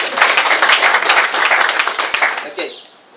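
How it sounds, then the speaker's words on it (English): Debate audience clapping for the speakers, a dense, steady burst of applause lasting about two and a half seconds before it fades, with a voice coming in at the end. "try to give them a little clap"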